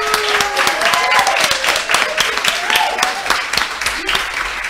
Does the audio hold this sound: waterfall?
no